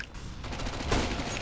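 Gunfire in the video game CS:GO, a short burst of rapid shots with sharp cracks, moderately loud over background game ambience.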